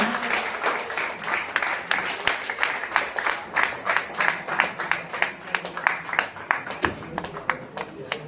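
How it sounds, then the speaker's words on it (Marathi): Audience at a drama festival's closing and prize-giving ceremony breaks into loud, sustained applause, a dense rhythmic clapping of many hands that holds steady for several seconds. "या प्रसंगी जोरदार टाळ्या वाजवा भुवन लिलारेसाठी"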